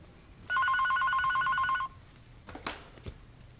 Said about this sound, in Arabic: قومي ردي على التليفون